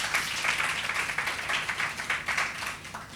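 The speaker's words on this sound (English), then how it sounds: "So a huge round of applause for them." An audience at a poetry book release applauds the featured writers, a continuous, fairly close wash of many hands clapping at even loudness with no talking.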